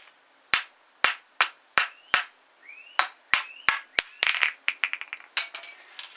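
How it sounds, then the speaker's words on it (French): A wooden screwdriver strikes a motorcycle engine cover in a series of sharp, separate taps. They come slowly at first and then quicken into a rapid clattering run with some ringing metallic clinks, close and with no talk. "Donc avec le tournevis en bois pour pas abîmer, je vais donner des petits coups."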